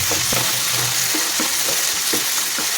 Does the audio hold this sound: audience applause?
no